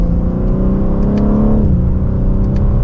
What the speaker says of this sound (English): We'll give it another acceleration.